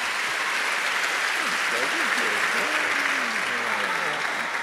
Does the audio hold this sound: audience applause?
yes